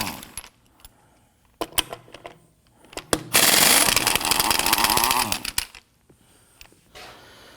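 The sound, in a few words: socket wrench loosening and removing Toyota Tacoma wheel lug nuts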